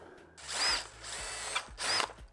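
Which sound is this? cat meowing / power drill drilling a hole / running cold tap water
power drill drilling a hole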